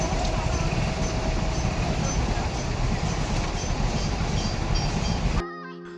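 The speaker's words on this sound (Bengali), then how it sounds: "এখন আরেকটা ট্রেন আসছে, অমৃত ভারত, যেটা বন্দে ভারত।" Amrit Bharat passenger train bound from NJP toward Howrah rolling past a busy railway crossing, a loud steady rumble of wheels and carriages that cuts off abruptly near the end.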